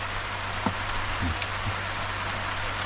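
Steady, soft hiss of rain falling on a camper van at a mountainside campsite, a constant wash of drops with a low hum beneath and a few faint knocks.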